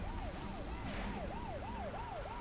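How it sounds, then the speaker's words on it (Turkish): An ambulance siren in the Spider-Man Web of Shadows video game wails up and down in a steady repeating cycle, moderately distant under constant city traffic rumble, with no talking. "Ambulansmış."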